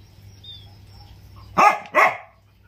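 A dog at a rural hut gives two short, close barks near the end, after a quiet stretch with faint background sound and no talk.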